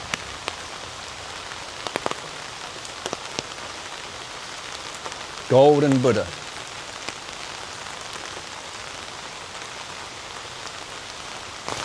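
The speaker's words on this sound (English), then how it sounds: "Oh, the rain's really coming down now." Heavy rain pours steadily at an outdoor Buddhist temple site, a dense, even hiss with scattered drop ticks, broken once by a brief spoken phrase in the middle.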